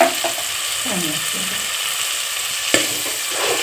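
Garlic and curry leaves sizzle and crackle in hot oil for a dal tempering, stirred with a spoon that scrapes the pan now and then, loud and close with no talk over it.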